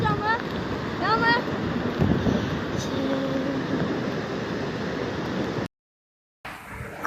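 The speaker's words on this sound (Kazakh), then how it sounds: "Қыздар, міне су тасқыны қандай болады" Floodwater rushes in a broad, continuous roar under gusting wind, with faint whistling tones and a brief voice in the background, in Tulkibas, Turkistan region of Kazakhstan.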